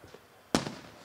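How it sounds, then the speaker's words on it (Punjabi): A single sharp, loud blast from a tear gas shell bursts over a crowd of protesting farmers at the Shambhu barrier in Punjab, with a short rumbling tail after a quiet lead-in. "ਤੁਸੀਂ ਦੇਖ ਸਕਦੇ ਹੋ ਕਿ ਇੱਕ ਵਾਰ ਫਿਰ ਧਮਾਕੇ ਸ਼ੁਰੂ ਹੋ ਗਏ ਆ। ਤੁਸੀਂ ਧਮਾਕੇ ਦੀ ਆਵਾਜ਼ ਸੁਣ ਪਾ ਰਹੇ ਹੋਵੋਗੇ"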